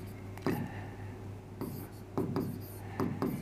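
Chalk or marker strokes on a board during a physics lesson on springs, a series of short scratchy writing bursts over a low electrical hum, with a soft voice briefly present.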